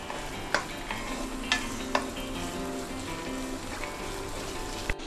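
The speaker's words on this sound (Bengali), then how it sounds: "এখন আমি পেঁয়াজটাকে এর মধ্যে মিশিয়ে দেব" Onion stirred into red and yellow bell peppers sizzling in a pan over a medium gas flame, with steady frying hiss and a few sharp scrapes and clacks of the utensil.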